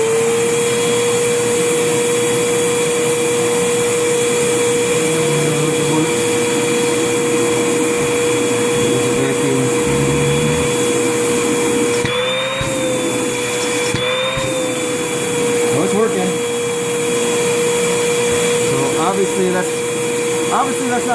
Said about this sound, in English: I'll turn the vacuum on